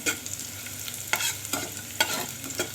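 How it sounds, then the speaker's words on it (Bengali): Black cumin seeds tempering in hot oil for a Bengali dal, with a steady low sizzle broken by a few sharp scraping stirs of a spoon in the pan. "তখন আমি কালো জিরা ফোড়ন দেবো"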